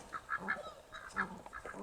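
A goose honks repeatedly in quick, nasal bursts, fairly close, with a few overlapping calls.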